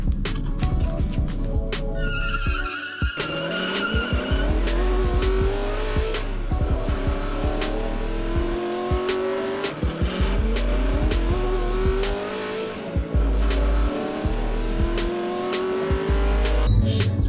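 Hot Wheels toy cars, a Mazda RX-7 and a 1970 Hemi Challenger, drag race on a mile-long track, with rising engine whines, tyre squeals and repeated sharp clicks as they speed along, loud and close throughout.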